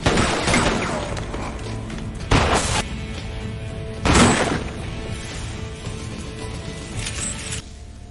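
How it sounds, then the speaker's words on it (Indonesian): Gunshots ring out in a tense film scene inside a hospital, with several loud, sharp bursts at irregular intervals over a busy, dense background. "Dan saat ia sudah melihat Draper, ia pun langsung menembaknya."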